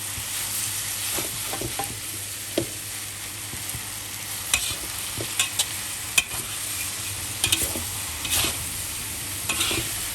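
Korat-style fried rice noodles with pork belly are stirred and tossed in a sizzling pan; a low frying crackle runs throughout, broken by sharp spatula scrapes and clacks at irregular moments.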